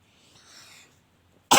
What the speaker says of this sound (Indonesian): Aduh, mau batuk